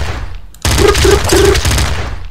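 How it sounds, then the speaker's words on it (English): An assault rifle in the video game Nuclear Throne fires a dense, loud burst of rapid shots lasting under two seconds after a brief pause, with a faint voice underneath. "Okay, assault rifle."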